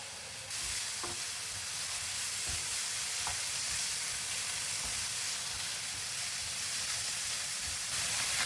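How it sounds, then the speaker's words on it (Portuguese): Onion sizzling in a thin drizzle of olive oil in a frying pan, a steady broadband hiss and crackle that holds even and close throughout, with a few faint knocks of stirring and no talk. "Ali na frigideira eu coloquei um fiozinho de azeite e agora eu vou fritar a cebola."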